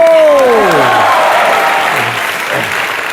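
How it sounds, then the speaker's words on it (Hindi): A studio audience on a comedy talk show applauds loudly right after a voice, the clapping and crowd noise steady and gradually easing over a few seconds. "एक बार जोरदार तालियां उनके लिए"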